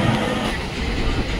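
A train rumbling along on a journey toward Shirdi from Secunderabad, a continuous loud, close rolling roar of railway carriages with a faint clattering rhythm and no voices.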